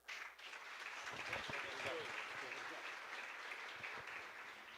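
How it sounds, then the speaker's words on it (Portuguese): Quiet applause from an evening audience welcoming a seminar speaker, an even wash of clapping heard from a distance, faint and continuous. "Vamos recebê-lo com carinhosamente um aplauso."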